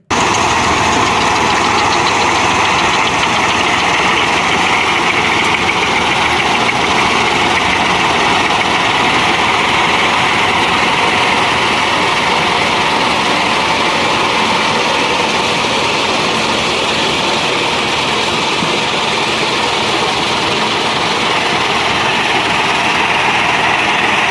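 A Massey Ferguson 241 tractor idles steadily and loudly up close, a continuous diesel drone with a constant low vibration and no talk over it.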